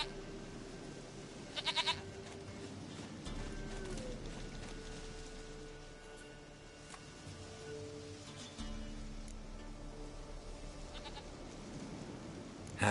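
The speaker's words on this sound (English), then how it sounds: "goat of mine, dearest, sweetest goat." A goat bleats a few times in The Witcher 3, with short wavering cries early on and again near the end over a low ambient game background.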